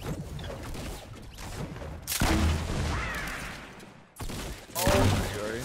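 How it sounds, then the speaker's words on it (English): Bursts of video game gunfire in Fortnite as players shoot down a rocket, loud rapid volleys and booms arriving in two surges, heard under excited voices. "they're shooting it down."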